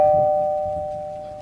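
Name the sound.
doorbell ringing at the front door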